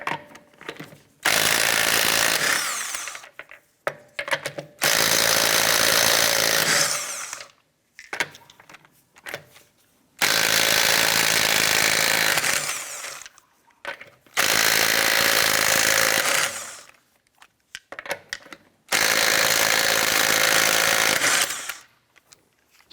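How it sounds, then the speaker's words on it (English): A power tool with a 19mm socket removes lug nuts from an Acura TL wheel in five loud, harsh bursts of hammering, each a few seconds long, with short quiet gaps and handling noises between. "let's go ahead and remove our lug nuts"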